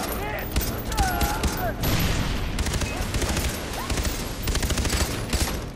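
Gunfire in Far Cry 3, dense bursts of automatic shots at moderate distance with irregular rhythm and some ricochet-like whines, while someone talks intermittently over the shooting.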